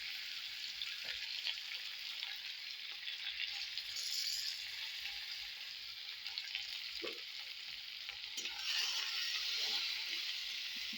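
A pan of chopped onion, chilli and tomato sizzles steadily, a soft even fry with faint stirring scrapes and clinks over it.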